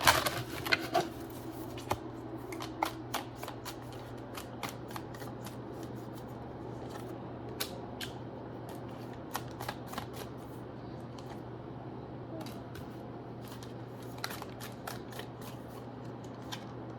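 Tarot cards shuffled by hand over a steady low hum, giving repeated crisp riffling bursts at an uneven rhythm, close and fairly quiet, with no talking.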